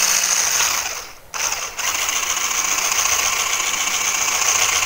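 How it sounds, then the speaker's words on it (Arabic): An electric hand mixer whips a cold water mixture for Oreo mousse cups, giving a steady, close whirring drone that dips out for a moment about a second in before resuming evenly to the end. "وبدأت هنا بقى اخفق فيه بالمضرب الكهرباء بالشكل ده"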